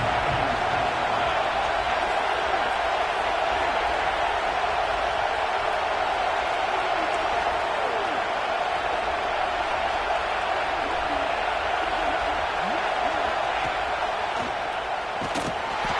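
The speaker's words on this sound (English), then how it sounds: "The crowd getting behind this defense as they try to get a stop in the red zone." Large stadium crowd at a college football game, LSU at Penn State, roars steadily for the defense in the red zone, a dense, loud, sustained wash of cheering with no breaks across the whole stretch.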